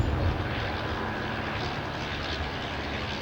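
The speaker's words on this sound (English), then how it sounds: "It's always a joy to watch Michael fly this old aeroplane" A vintage Blériot XI monoplane flying at an air show, its engine giving a steady, fairly loud drone with no talk over it.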